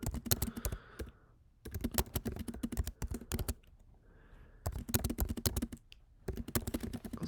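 Keys clatter in quick, dense bursts on a computer keyboard, three long runs of close, fairly loud typing broken by short quiet pauses.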